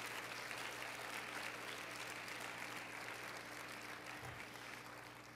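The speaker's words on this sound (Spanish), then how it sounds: "Dele otro aplauso, por favor" Sustained applause from a large crowd fills the space, a steady wash of clapping that holds throughout without a break.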